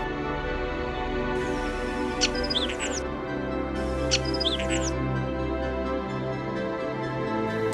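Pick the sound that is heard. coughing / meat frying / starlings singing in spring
starlings singing in spring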